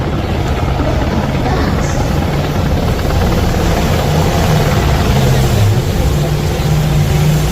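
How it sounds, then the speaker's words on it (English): Australian Navy MH-60R Seahawk helicopter carrying a huge Australian flag overhead at an Australia Day celebration, a steady loud rotor and engine roar running throughout without pause. "You'll see the Australian Navy's MH-60R Seahawk carrying the illustrious and massive Aussie flag."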